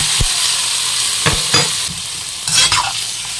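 Squid sizzles and crackles in a hot pan for adobong pusit, stirred with a few sharp scraping clatters over a steady frying hiss, close and fairly loud.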